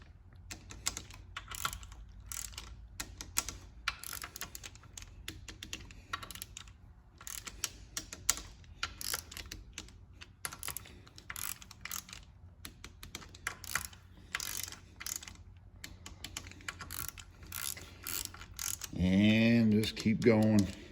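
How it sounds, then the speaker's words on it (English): A ratchet wrench clicks in quick bursts as it torques transmission valve body bolts on an E4OD/4R100 rebuild, close and repeated over roughly twenty seconds, with a louder mechanical rumble near the end. "and then just start torquing these bolts. One at a time, no big deal."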